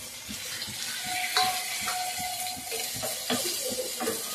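Tomatoes go into a pan of frying beef liver and give off a quiet, crackling sizzle, with small clicks and stirring taps scattered through it. The sound is close and soft, with no talking.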